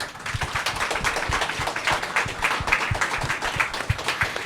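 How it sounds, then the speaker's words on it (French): An audience claps for podcast guests at a live event, a steady patter of many hands applauding together at moderate volume. "Vous pouvez les applaudir s'il vous plaît"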